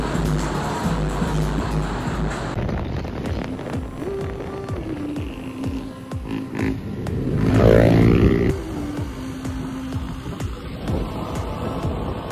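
Honda ADV motorcycle riding on the road, engine drone and wind rumble continuous with changing pitch, swelling louder midway as traffic passes.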